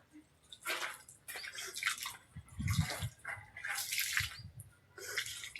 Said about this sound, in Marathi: पाणी मारतो थोडा.